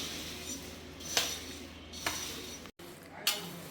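Roasted poha chivda is stirred in a pan, a spoon scraping and clinking against the metal in three or four distinct strokes over a soft sizzle.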